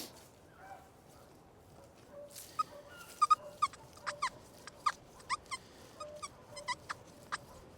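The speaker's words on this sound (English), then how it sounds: "I'm gonna get a little further from the dogs." Several dogs in an open pasture give a run of sharp yips and barks mixed with whimpers, fairly near, in quick uneven bursts that grow busier toward the end.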